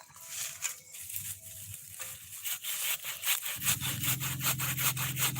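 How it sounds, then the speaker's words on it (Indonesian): A hand saw rasps through the wood of a waru tree being dug up as bonsai stock, in quick, rhythmic back-and-forth strokes, close and fairly loud, with a lower grinding tone joining partway through. "baru potong itu di bawahnya gergaji."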